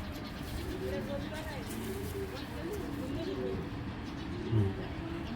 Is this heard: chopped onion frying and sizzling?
no